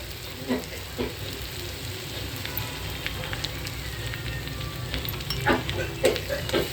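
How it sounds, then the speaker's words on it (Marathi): Garlic and green chillies fry in hot oil with a continuous close sizzle and crackle, broken by a few sharper spits and light clinks near the end; no one talks. "आता हे लसूण मिरची तळले तेलामध्ये"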